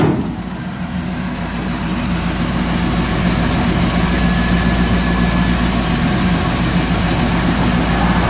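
A 1957 Chevrolet Bel Air engine starts and settles into a loud, steady idle, running close and unbroken with a low rumbling throb throughout, no voices.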